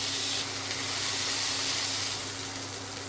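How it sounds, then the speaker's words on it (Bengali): Beef sausages, a traditional beef variety, frying in a pan with a steady broadband sizzle and hiss that holds at an even, fairly loud level throughout, with no voices. "এবার আমরা ভাজবো হচ্ছে বিফ ট্র্যাডিশনাল যে সসেসটা সেটা"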